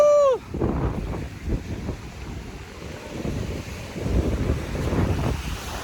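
At a rainy, cloudy seashore by hills, sea waves wash in and out under gusty wind buffeting the microphone, the surf rising and falling in loose surges.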